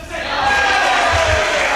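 Spectators at a table tennis match applaud a fair play gesture, a steady wash of clapping and crowd noise filling the whole moment at close, fairly loud level.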